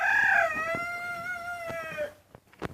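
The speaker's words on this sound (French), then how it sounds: "le coq qui chante" A rooster crows once, close and loud, in a long wavering call with a rising start and a sustained held tone that trails off, followed by a few faint knocks.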